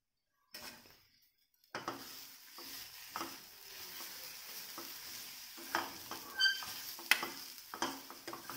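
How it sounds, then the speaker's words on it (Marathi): Large bell pepper pieces frying in hot oil with toasted spices while a spoon stirs them in a pan. Close sizzling builds after a quiet start, with scraping and occasional clinks against the cookware, and no speech. "तर ढबू मिरचीचे असे थोडे मोठे पीस करून घेतलेले ते टाकायचे।"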